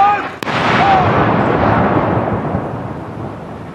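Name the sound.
artillery gun salute marking the death of Queen Elizabeth II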